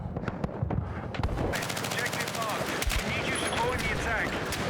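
Gunfire in the shooter game Battlefield 6, loud, sustained automatic bursts with rapid repeated shots layered over game effects throughout.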